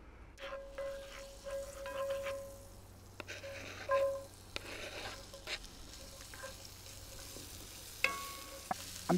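Potatoes frying in oil and butter in a skillet outdoors on a deck, a quiet low sizzle with occasional scrapes and taps of a utensil against the pan.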